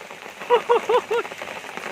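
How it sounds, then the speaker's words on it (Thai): Rain falls at a fishing spot as a storm moves in, a soft, even hiss throughout, with four short tonal calls standing out briefly in the middle. "มาถึงหมายก็ฝนตกนะครับ ฝนตกนะครับผม"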